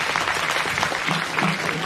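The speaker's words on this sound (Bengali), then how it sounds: "হাত তালি দাও।" Applause from a crowd at an award ceremony for higher-secondary achievers. The clapping is brief, dense and steady, with a faint murmur underneath.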